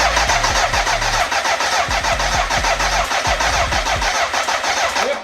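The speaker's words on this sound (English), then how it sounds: "engine cranks, but of course we don't have fuel, so it won't start" BMW K100 motorcycle engine turning over on the starter with no fuel: a loud, continuous rhythmic cranking churn that never catches or fires, heard close and alone.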